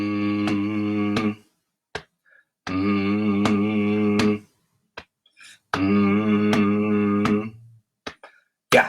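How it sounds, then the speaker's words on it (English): An audience hums along in long sustained phrases with breaths in between, while sharp claps or snaps keep a steady beat through the humming and the pauses. "Just keep humming like that."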